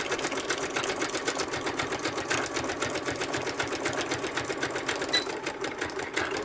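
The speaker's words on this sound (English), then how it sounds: "I'm back stitching because I'm going to lift this, flip it, move it over" A sewing machine back stitching, its needle hammering in a fast, steady, even rhythm close by and without pause, no voices.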